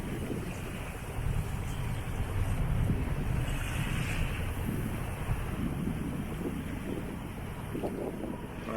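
A sailboat running under sail with its motor assisting, on the sea between Saint-Chamas and La Ciotat: a continuous low rumble of engine and water, with wind buffeting the microphone and waves washing against the hull, heard with no talk.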